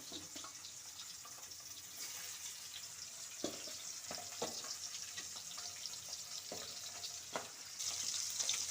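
Tengra fish fry in a pan, making a quiet steady sizzle with occasional soft knocks and stirring sounds, gradually growing a little louder toward the end.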